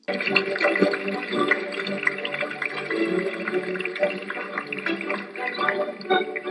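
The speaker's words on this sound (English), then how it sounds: "Stop splashing me, I'm all wet." Water sloshes and splashes continuously in close, irregular bursts, with wet bubbling and dripping throughout.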